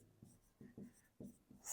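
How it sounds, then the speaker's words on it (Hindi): Pen writing on paper while solving a math exercise, a few faint, close scratchy strokes in short bursts. "तो हम लिखेंगे"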